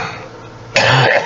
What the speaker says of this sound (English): It causes me to cough.